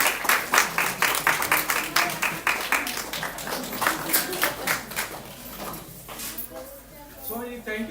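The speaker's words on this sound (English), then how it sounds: "I want one round of applause for Swamiji." Audience clapping after a talk at an association gathering, a sharp, close run of claps that thins out before a voice starts speaking near the end.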